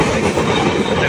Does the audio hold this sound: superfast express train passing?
yes